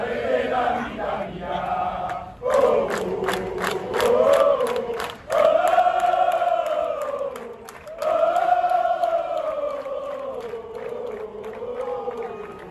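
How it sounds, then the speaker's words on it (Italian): Campobasso football fans protest in a town square, a large crowd chanting and shouting together in loud, rising and falling waves, with rhythmic claps and brief pauses between chants. "È la voce dei tifosi quella che si fa sentire dopo l'esclusione dei Lupi dalla Serie C"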